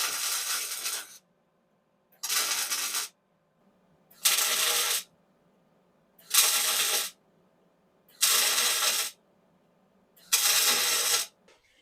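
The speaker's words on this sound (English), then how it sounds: "Some of you are probably very offended by how I'm welding this." Welding on a homemade budget vehicle frame, six separate bursts of crackling, hissing arc, each lasting about a second, separated by silent pauses in a steady rhythm.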